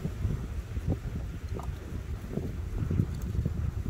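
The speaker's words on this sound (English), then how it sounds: "We got quite a bit of wind today." Wind blowing outdoors at a railway track site, a steady low rumbling buffet against the microphone with gusty fluctuations throughout.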